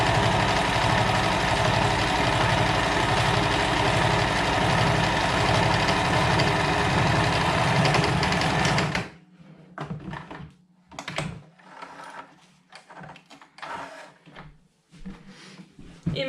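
A sewing machine runs steadily for about nine seconds, stitching a straight seam on a small fabric dragée pouch, then stops, leaving sparse handling clicks and rustles.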